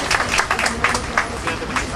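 Applause from people gathered at a political camp event for Mexicana de Aviación workers, uneven bursts of clapping mixed with crowd murmur and some voices, fairly close and loud.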